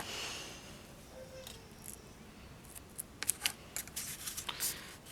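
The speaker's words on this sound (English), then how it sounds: "place that here and trim these ends" Scissors trim the ends of a small bow on a handmade card, giving a quick series of sharp, close snips in the second half after faint background hiss.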